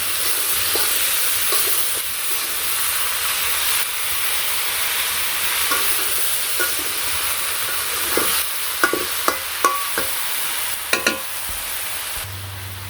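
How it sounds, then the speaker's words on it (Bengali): Hand-caught fish and home-grown vegetables are stirred with salt, turmeric and mixed spices in a pan over a village fire, with a continuous loud hiss, intermittent scraping strokes and a few sharp knocks near the end. "তারপর একে একে পরিমাণ মতো লবণ, হলুদের ফাঁকি আর পাঁচমিশালি ফাঁকি দিয়ে ভালো করে নাড়াচাড়া করে মিশিয়ে দিই।"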